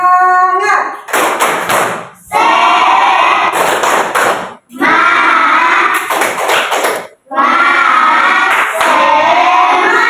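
Children in an Indonesian classroom perform a rhythmic spirit clap, several loud bursts of group clapping and chanted voices separated by brief pauses, close and energetic.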